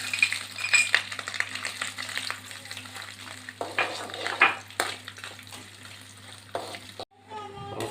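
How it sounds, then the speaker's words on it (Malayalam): Coconut pieces fry in hot oil for squid dish, a steady broadband sizzle with scattered crackles and occasional stirring clinks, fairly close; the sizzle drops off near the end, followed by a brief different scraping sound. "അപ്പോൾ നമുക്ക് ആദ്യം ഈ തേങ്ങാക്കൊത്തൊന്ന് ഇതിനകത്തൊന്ന് വറുത്തെടുക്കാം."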